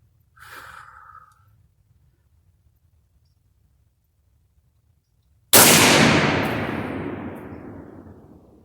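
A single loud, close rifle shot from a 7.62x39 firing cast bullets at an outdoor range, cracking sharply and ringing out in a long decaying echo after a quiet stretch with a brief breath.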